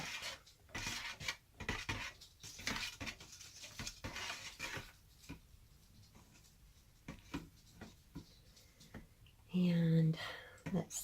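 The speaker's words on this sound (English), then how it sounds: "So we just stir it up." Soap batter containing stearic acid being stirred in a pot, giving uneven scraping and rubbing strokes that come and go, with a louder clatter near the end.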